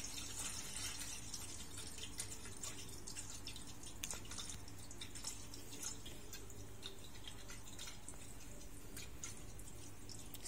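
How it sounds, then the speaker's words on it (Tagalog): Tap water runs into a cooking pot being filled for boiling pasta, a steady close splashing and trickling stream with scattered drips throughout, heard alone without talk. "maglalagay muna tayo ng tubig at ilalagan natin yung pasta natin para lumambot"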